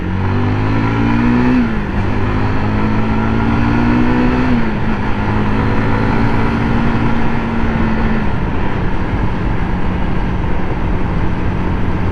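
A Honda Supra GTR 150 motorcycle engine drones loud and close while riding, its pitch climbing through gear changes with steady wind rush throughout.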